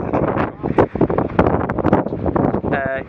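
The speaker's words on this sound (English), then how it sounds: "it's really, really windy" Strong wind buffets the microphone high on a mountain at about 2,300 meters, loud irregular gusting rumbles that rise and fall throughout, with voices partly mixed into the noise.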